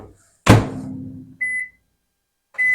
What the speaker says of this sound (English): I'm going to stick this in the microwave.